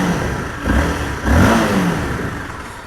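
A motorcycle engine close by revs in two quick blips over a steady rumbling idle, loud and without talk.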